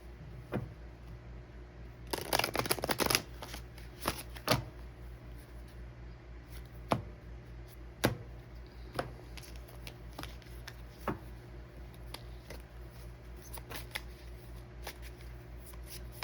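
A deck of oracle cards being shuffled by hand, a dense riffling burst early on followed by scattered soft flicks and taps of cards over the rest of the stretch, no speech.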